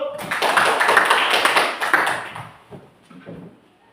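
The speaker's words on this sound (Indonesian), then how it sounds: "Tepuk tangan dulu." A class of pupils claps hands together, a loud burst of many close claps that fades over a few seconds, with voices talking underneath.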